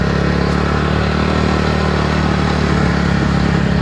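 A Bullet motorcycle engine climbs the hill road up to Tirumala, a loud, close, steady thumping drone that continues unbroken with no voices.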